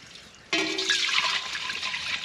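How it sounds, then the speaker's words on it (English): Two liters of fresh milk pour into a pot, starting abruptly after a short quiet moment and continuing as a steady, close splashing stream. "So first pour into 2 liters of milk."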